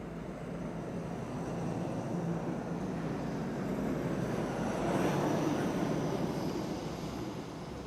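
A KLM airliner on flight 565 to Nairobi takes off from runway 18 left at Amsterdam Schiphol. Its distant engine roar builds, swells near the middle, then eases slightly.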